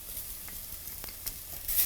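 Garlic tossed into a hot pan with pork chops, giving a steady, moderately quiet sizzle with a few faint ticks and pops that swells slightly at the end; no voices.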